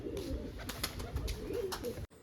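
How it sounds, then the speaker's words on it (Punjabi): White pigeons coo steadily in a coop, close and clear, with soft wing rustles and scuffling mixed in before a sudden cut at the end. "ਪਹਿਲਾਂ ਕਬੂਤਰ ਘੜਵੜ ਕਰਦੇ ਨੇ ਬਾਹਰ ਨਿਕਲਣ ਦੀ ਕੋਸ਼ਿਸ਼ ਕਰਦੇ ਨੇ"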